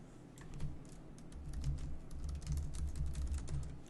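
Quiet, steady typing on a computer keyboard, a soft run of close key clicks that picks up and continues evenly without any talking.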